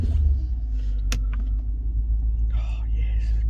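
A Y62 Nissan Patrol idles with its air conditioning running, a steady low engine rumble with fan hiss layered on top, interrupted by a few brief clicks and faint background voices.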